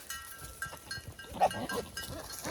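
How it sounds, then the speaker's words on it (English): Several female goats in a pasture bleat in short, scattered calls, fairly faint and overlapping against a low background of farm noise. "several of our does are making that noise, that silly noise"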